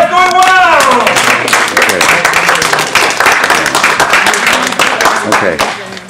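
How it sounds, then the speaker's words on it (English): Loud, sustained audience applause and clapping in a hall during a Toastmasters speech contest, dense and continuous with a voice rising briefly at the start. "give yourself a round of applause for the first half going well"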